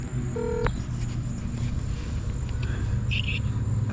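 Telephone keypad tones as a number is dialed outdoors during a cross-country bicycle trip in the United States, a brief burst of beeps near the start followed by crickets and ambient hum.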